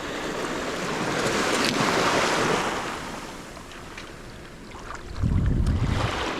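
Surf rolls and washes onto a sandy Gulf beach at Pass-a-Grille, with water around 62 degrees and urchins tumbling in the shallows. Broadband wave rushes swell and ebb, with a louder, low, rumbling breaker near the end and steady wind noise throughout.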